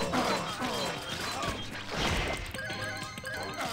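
Loud horse whinnies from a charging rider in the video game Castle Doombad, over busy game noise with crashes and clip-clopping hooves, with someone talking faintly underneath.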